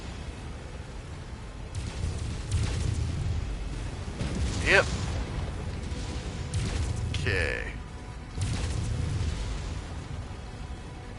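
Mech cannon fire and explosions in MechWarrior 5 Mercenaries come as muffled booms and rumbling bursts under a steady low drone, with someone talking briefly over the action.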